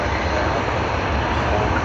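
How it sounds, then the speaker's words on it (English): A Boeing 737 and a Dash 8 idle their engines at Sydney Airport, a steady broadband roar and hum filling the air continuously, loud and unbroken. "there is the 737 here, and behind us is a Dash 8, and that's the reason you can hear their engines roaring"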